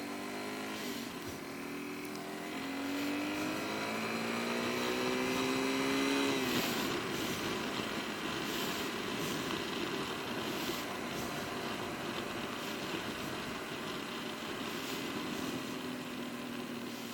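A Yamaha XT225 motorcycle engine heard while riding, with the pitch rising through a gear and then dropping on a downshift, followed by a steady drone mixed with wind rush.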